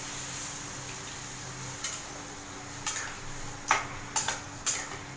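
A spoon clinks and scrapes at intervals against a pan while brinjal and potato curry is stirred after water goes in, a few distinct metallic taps over quiet kitchen background.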